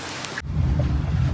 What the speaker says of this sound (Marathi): हा भरभर पाऊस एवढा जोर जोरात पडतोय.